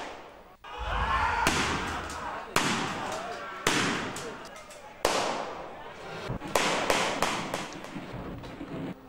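Celebratory aerial gunfire and fireworks after a district bar election win, heard as a series of sharp loud bangs at uneven intervals, each trailing off into a rumbling echo, with a steady noisy wash underneath.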